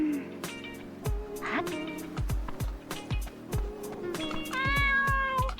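A cat meows repeatedly in Dave the Diver, several short mews spaced among sharp clicky game sound effects and a brief bright chime near the end, with no talk.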